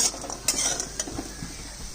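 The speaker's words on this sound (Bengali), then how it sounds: "ডালের বড়ি ভাজা হয়ে গেছে" Dal bori, lentil dumplings, sizzle in hot oil while a metal spoon stirs and clinks against the pan, close and continuous, no voices.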